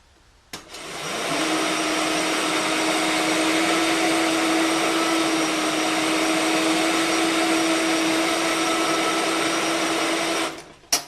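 A CRB carpet cleaning machine post-grooms an area rug, starting with a click and spinning up into a loud, steady motor whine with high whirring overtones that holds for about ten seconds before cutting off abruptly.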